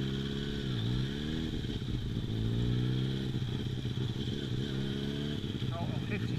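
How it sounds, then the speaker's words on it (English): Motorcycle riding off on a tyre treated with GOOP puncture sealant, engine note steady and fairly close, rising slightly as it pulls away, with some rattle and wind noise throughout. "just done 12 mile on the bike"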